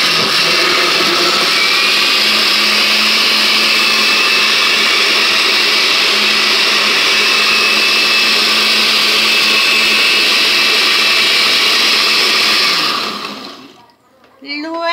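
A blender whirs loudly and steadily for several seconds, blending a liquid compost mixture with 2 litres of water, a dense grinding roar that cuts off abruptly near the end, leaving quiet.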